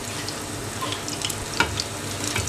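Foli fish kofta fries in hot oil in a pan, a steady close sizzle with faint crackles and occasional spatters, with no voices.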